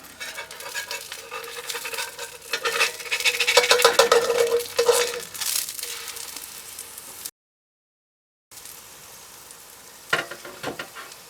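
A crepe cooks in a hot pan with a steady, bright sizzle and some stirring and clattering, swelling mid-clip, then a brief silence before quieter frying returns with a short burst of pan noise near the end.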